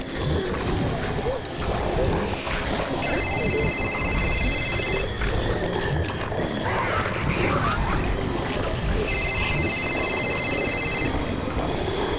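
A telephone rings while a call is placed, sounding twice as repeated electronic ring bursts spaced several seconds apart over a loud, busy, droning background.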